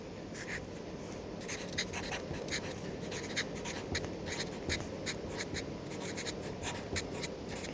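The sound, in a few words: writing notes by hand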